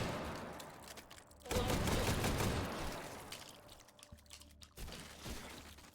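Magazine-fed shotgun fire in a competitive video game match, heavy blasts rising from about a second and a half in, with further bursts later amid busy game noise.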